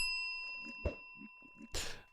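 A bright bell ding rings out in a multiplayer Minecraft-style game session, sharp and clear with a short ringing tail, set among faint scattered game noises and quiet background tones.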